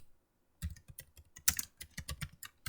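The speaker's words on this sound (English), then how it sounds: "You can type the Python codes here directly." Python code is typed on a computer keyboard: a quick irregular run of close, crisp key clicks begins after a short silence, with no talking.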